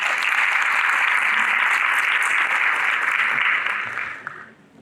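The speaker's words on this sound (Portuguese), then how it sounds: "palmas, por favor" Audience applause at an education and science forum's round-table session, a dense steady burst of clapping from a crowd that fades out at the end.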